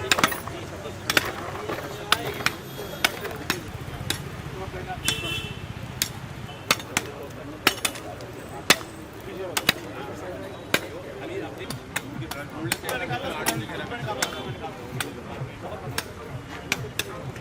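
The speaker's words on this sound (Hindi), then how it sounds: "अब इसको बेती या छेनी से ये पूरा कट किया जाए।" Chisel strikes cutting along a marked line, a steady run of sharp, fairly close taps repeating about every half second under a continuous background of voices and room noise.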